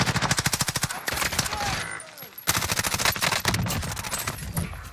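Rapid automatic gunfire in Call of Duty Modern Warfare, loud bursts of fast, evenly spaced shots with a brief break in the middle before firing resumes.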